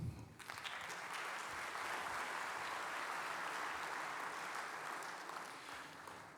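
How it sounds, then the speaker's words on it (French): Audience applause at an afternoon round-table conference welcoming three speakers, a steady wash of many hands clapping at moderate distance, fairly quiet and continuous, easing slightly toward the end. "je vous demande d'applaudir nos 3 intervenants"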